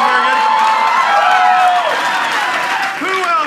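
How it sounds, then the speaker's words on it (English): A loud improv comedy audience claps and cheers with rising whoops and shouted voices mixed into a steady wall of applause that stays close and full throughout. "Round of applause,"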